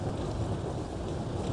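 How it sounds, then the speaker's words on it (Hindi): Steady rain pours with a low rumbling wash beneath it, a constant dense hiss and roar that suggests a thunderstorm, with no voices. "बारिश हो रही है इधर"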